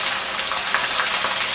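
Vegetables hand-dropped into hot oil give off a loud, steady, close hissing sizzle that runs unbroken with no talking over it.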